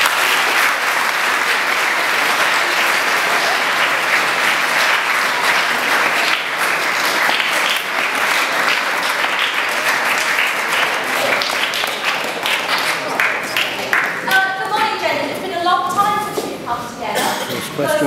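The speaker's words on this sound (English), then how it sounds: "A round of applause." Sustained audience applause fills a school hall at an enterprise awards presentation, steady dense clapping from a large crowd that thins slightly toward the end, with a few voices audible over it.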